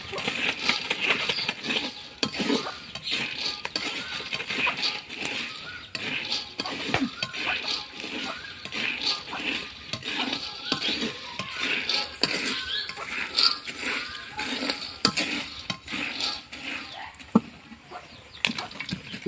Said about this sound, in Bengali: এই যে শুরু হয়ে গেছে পাপ্পন ভাজা